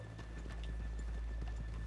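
Horses clip-clop at a steady walk off the main street in the video game Red Dead Redemption 2, with hooves close and clear over a low, constant ambient rumble.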